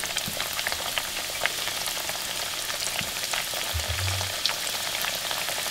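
Squash slices fry in hot oil for Southern-style crispy fried squash, a dense, even crackling sizzle throughout with a few faint clicks of handling, close and steady.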